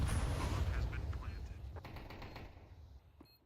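A quick, rattling string of Tech-9 pistol shots in a Counter-Strike match, fairly close, under a loud crowd and game-noise bed that fades toward the end.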